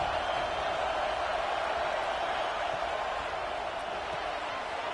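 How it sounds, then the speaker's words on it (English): A stadium crowd roars in the NCAA 26 college football video game, a steady wall of loud, dense noise that holds without pause throughout. "This crowd bringing the energy and noise early."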